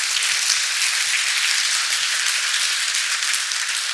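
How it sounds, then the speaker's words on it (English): Audience at an open-source developer talk gives a steady round of applause, a dense, even wash of many hands clapping at moderate loudness, sustained throughout without speech. "So let's first give her a round of applause."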